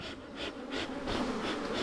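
Honeybees buzzing steadily during a hive inspection as bees from another hive mix in and scuffle; a dense, close swarm hum with pulsing swells, no talk.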